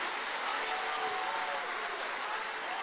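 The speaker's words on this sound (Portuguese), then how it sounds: "Se é para aplaudir, aplaude com vontade" Church congregation applauding during a sermon, a dense, steady wash of clapping that holds at an even level throughout with no voices on top.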